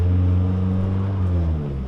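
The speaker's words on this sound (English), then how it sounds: "I hear that turbo from back here" Turbocharged Mazdaspeed 3 race car engine with a 3-inch straight exhaust and resonator revving up close, a loud steady drone with strong low harmonics sliding slightly in pitch throughout.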